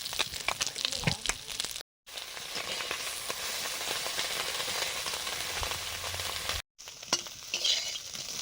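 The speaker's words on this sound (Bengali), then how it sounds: "পুঁটি মাছ ভাজা হয়ে গেছে, এবার নিয়ে নেব।" Puti fish frying in mustard oil in a pan, a steady close broadband sizzle with stirring scrapes, broken by two brief cuts.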